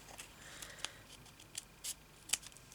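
Scissors snip through a strip of material during a craft project, several short crisp cuts spaced irregularly, close by and fairly quiet in a still room.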